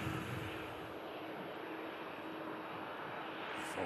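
A jet aircraft taxis at Manchester Airport in thick fog, its engines giving a steady, fairly loud rumbling whine that holds without a break.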